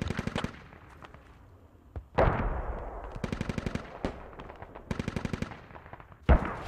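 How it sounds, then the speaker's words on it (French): Rapid bursts of automatic gunfire from a squad-based shooter video game, loud and close, arriving in repeated rattling volleys with a heavier blast near the start and another near the end. "je tire à 300 mètres"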